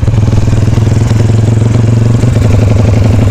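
Motorcycle engine fitted with a Jaguar cylinder block idling close by, a loud steady low thrum with fast rhythmic pulsing and some mechanical clatter, running without a break.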